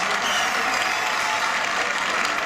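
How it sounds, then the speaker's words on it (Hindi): Audience applause at an Indian Independence Day program held by a Haryana association, dense and loud continuous clapping from a crowd throughout. "संचित शर्मा के लिए जोरदार तालियां हरियाणा एसोसिएशन की ओर से"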